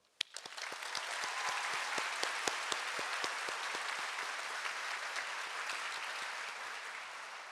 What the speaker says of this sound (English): Let's take a moment to applaud and appreciate all the families in the room.